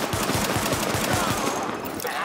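Automatic gunfire in The Division video game rattles in a rapid, steady burst of loud shots, close up and continuous for a couple of seconds, with no talk.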